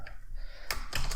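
Keystrokes on a computer keyboard as code is entered, a few quick clicking taps in short bursts over a steady low background hum.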